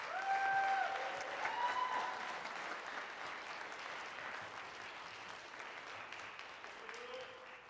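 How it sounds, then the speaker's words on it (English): Audience applause for a jazz ensemble at a concert, loudest at the start and then settling into steady clapping that tapers slightly, with a few faint tones rising above the crowd noise. "So please just give another round of applause to this amazing jazz ensemble tonight."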